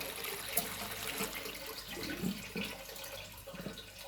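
Drumsticks and red lentils being washed under running water, a soft steady tap flow with faint splashing and handling, quiet and close without talk.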